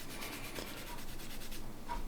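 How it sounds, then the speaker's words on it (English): Light hand sanding of the clear-coated body of a 1/12 scale 1971 Porsche 917K model, a steady close, soft rubbing scrape that runs continuously with no voices. "then I'll just give the whole thing a little bit of a light sand over just to make sure I denib it"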